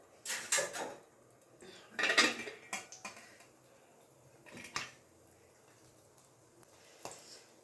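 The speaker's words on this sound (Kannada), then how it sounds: "ಈಗ ಮುಚ್ಚಳ ಓಪನ್ ಮಾಡ್ತಿದ್ದೀನಿ" A lid is lifted off a hot pan cooking a spicy masala egg omelette, giving a few sharp metallic clanks and clatters close by, spaced out between quiet pauses, with a final light tap.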